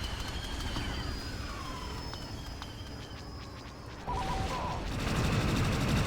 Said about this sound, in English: Immediately get shot once I spawn.